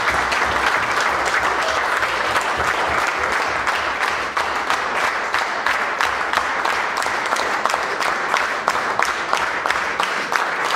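A gathered crowd at a festive celebration applauds loudly in honour of fallen heroes, a thick, sustained roar of clapping that holds evenly throughout.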